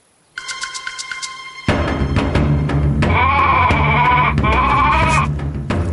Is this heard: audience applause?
no